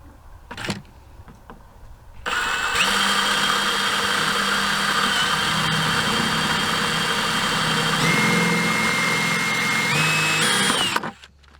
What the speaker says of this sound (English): Let's drill a 3/8 hole here real quick.